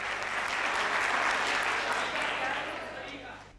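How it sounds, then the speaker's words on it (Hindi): Applause from the audience at a Hindi comedy poetry gathering, a full burst of clapping that rises, holds, then thins out and fades toward the end. "तालियां इस बात पर होनी चाहिए।"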